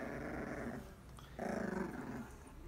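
Young puppies growl up close in two sustained, rumbling stretches with a brief pause between them, plus a sharp yip at the very end, with no talking.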